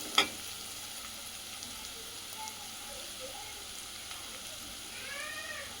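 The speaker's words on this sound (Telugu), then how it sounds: "ఉల్లిపాయలు వేగినాయి" Onions fry in a pan, browning for a mango and dried fish curry, giving off a faint, steady sizzle and crackle with a soft clink at the start and no voices.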